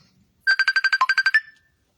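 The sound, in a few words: phone ringtone ringing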